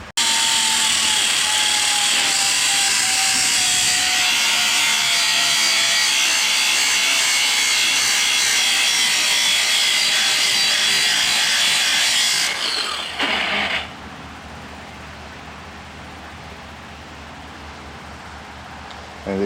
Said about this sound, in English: That's why I prefer using the angle grinder with the sanding disc,